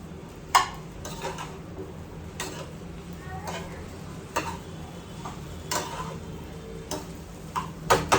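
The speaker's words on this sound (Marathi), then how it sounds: "आता साबुदाणा मिक्स करून घेते व्यवस्थित" A spoon stirs a sabudana (sago) and potato mixture cooked in ghee in a pan, giving intermittent clicks and taps against the metal, spaced irregularly over a faint background hum.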